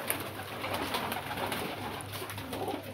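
Pigeons coo softly and repeatedly in a fancier's setup, their low rolling calls close by over a faint background hum.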